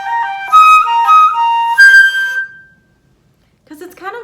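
A flute plays a slurred melody from Bizet's Minuet, with intervals leaping up and down in smooth, sustained tones for about two and a half seconds, then silence before a brief return of notes near the end.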